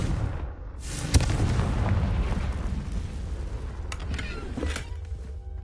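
A Confringo spell blast in a Hogwarts video game, one loud booming explosion that starts sharply and rolls on into a long rumbling tail, with smaller bursts following.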